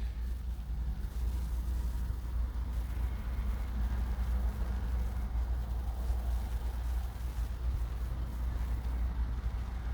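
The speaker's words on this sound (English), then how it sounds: "I live right outside of a pretty busy street, and you can almost constantly hear cars going by." Steady traffic from cars passing on a busy street outside a home, a continuous low rumble and road hiss with no clear breaks, heard from indoors at moderate level.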